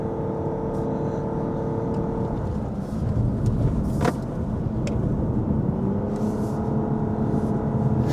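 A Lexus LBX small car accelerates at full throttle, its engine droning steadily with a rising whir and road rumble heard from inside the cabin, loud and continuous.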